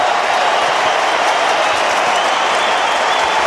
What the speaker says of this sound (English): crowd are loving it here